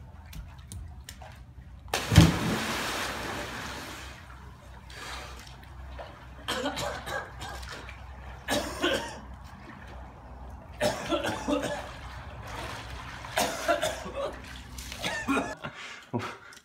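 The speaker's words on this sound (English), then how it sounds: "You were coughing like you swallowed a rat" Bursts of harsh coughing and throat clearing after inhaling pool water, amid splashing in a swimming pool, with sputtering breaths spread over the span, fairly close.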